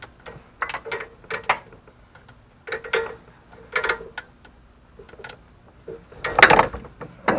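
A wrench loosening the bottom alternator bolt on a Toyota Corolla 2ZR-FE engine, heard as repeated bursts of ratcheting clicks in several close, separate runs with short pauses between them.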